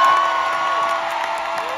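A live concert audience applauds and cheers in a steady, dense wash of crowd noise at Pico Rivera, slowly fading slightly over a couple of seconds.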